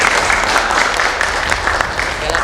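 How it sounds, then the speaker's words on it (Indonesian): Crowd applause at a Padepokan gathering, a dense, steady wash of clapping that fills the clip from start to finish without pause. "tepuk tangan."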